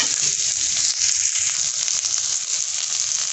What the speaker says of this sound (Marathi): आता लसूण लाल झाला की आपण हा जो कांदा आहे तो टाकून घेणार